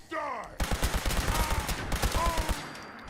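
Rapid rifle gunfire in Fallout 4, a quick run of sharp, loud shots in close succession after a brief vocal shout, with a dense battle din behind it.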